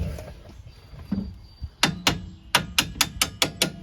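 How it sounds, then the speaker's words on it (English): A series of sharp metallic taps from a brass hammer on a 2009 Ford Escape's front suspension, two at first then a quick run of about six, close and ringing, no talking. "Let me get a brass hammer here. Give this a little tappy tap."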